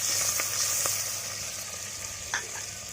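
Garlic and chilli frying in a pot over a steady hiss of oil, with a few soft knocks of a spoon stirring, close and moderately loud with no voices.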